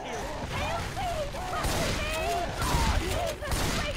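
Video game gunfire from Left 4 Dead 2 aimed at the Tank in the Swamp Fever campaign, rapid bursts of shots mixed with game music and effects, with excited players talking over it.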